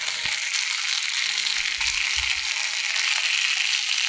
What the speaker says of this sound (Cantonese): 咁我哋而家處理下層皮，煎翻香層皮，煎到佢少脆脆地咁咧就 OK 啦